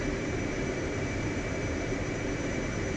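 F-18 Hornet jet engine in the DCS World flight simulator over Afghanistan: a continuous, loud, even roar with a whining hum layered in, unbroken and steady throughout.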